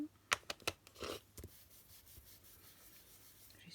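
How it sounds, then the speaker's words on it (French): A paint brush is wiped on paper while ink and paper cards are crafted, making a few quick soft scrapes and rubs close by, then fading into quiet near-silence. "J'essuie bien ma brosse"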